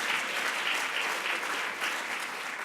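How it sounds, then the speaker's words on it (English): Steady applause from an indoor crowd at an announcement of a new Amazon headquarters, a dense, even patter of clapping that runs for about three seconds without talk. "Well, it's worth applause."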